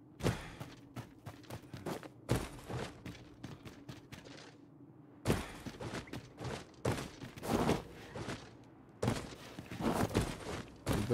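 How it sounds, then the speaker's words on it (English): Explosions and combat blasts in the fantasy action game Dragon's Dogma 2 burst out in several loud, broadband bangs with short gaps between, mixed with thuds and scuffling footsteps. "Did that explosion explode this?"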